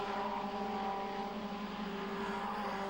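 Caterham Vauxhall racing cars at speed on a track in 1997, a continuous, loud engine drone with sustained high revving tones and no break.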